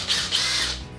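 A power drill revs up in a high whine, surging twice in quick succession, loud and close.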